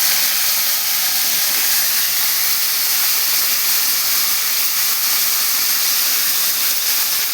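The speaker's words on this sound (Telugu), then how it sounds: "ఇప్పుడు వంకాయలు వేసేసుకోవాలండి." Eggplant pieces sizzle and hiss in hot oil with chilies, a bright, continuous frying crackle that holds steady and fairly loud throughout, with no talking.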